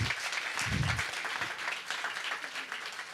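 An audience applauds at a salangai pooja event of a music academy, with dense, steady clapping that carries on throughout at an even, moderately loud level.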